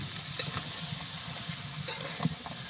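Mixed vegetables with turmeric and salt are stirred in a pan, giving a soft, steady frying sizzle with a few light scrapes and clicks, quiet and close, with no talking.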